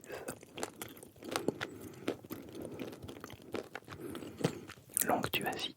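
Crisp bites and crunchy chewing of a large flaky butter croissant from Paris, close-up and textured with crackling flakes, repeated bites throughout amid soft whispers.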